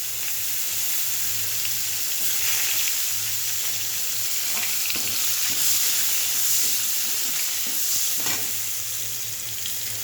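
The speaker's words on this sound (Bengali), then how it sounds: "এই যে এটা কালো জিরে ফোড়ন দেবো। এই যে আধখানা পেঁয়াজ," Nigella seeds and half an onion sizzling in hot oil in a pan, a loud continuous frying hiss with scattered crackles and spatters running throughout.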